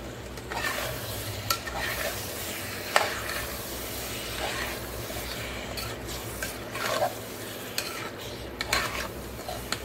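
Cut potatoes for aloo matar fry and sizzle steadily in a pan while a spoon stirs them with scraping clinks, a continuous close crackle with no talk.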